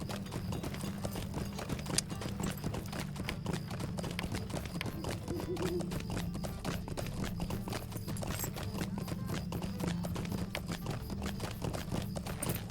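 Rhythmic clip-clop of horse hooves trotting steadily in Lord of the Rings Online, an MMO game, running continuously over a low droning music bed.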